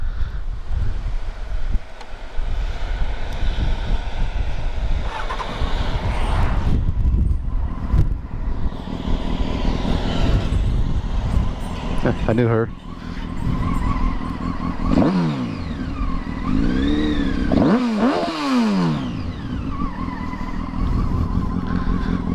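A Honda Hornet 919 motorcycle engine starts and runs nearby, a steady, fairly loud idle with rising and falling revs as the throttle is blipped, with wind noise on the microphone and a brief spoken voice.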